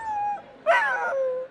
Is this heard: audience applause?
no